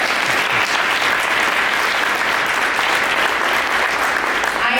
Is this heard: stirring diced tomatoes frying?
no